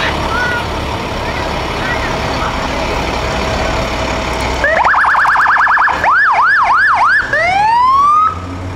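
A Holding Ford Fire Department truck sounds its siren in a small-town heritage day parade, loud wailing and yelping sweeps cutting in halfway through over steady street noise and engine hum.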